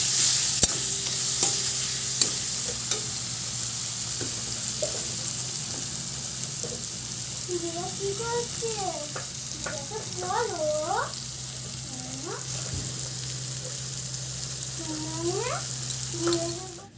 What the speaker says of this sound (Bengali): তারপর ভালো করে একটু কষিয়ে নিতে হবে মশলাটাকে